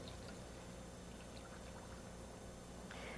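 Water pours into a pot steadily and continuously in a broad, even rush, close up, with no pauses.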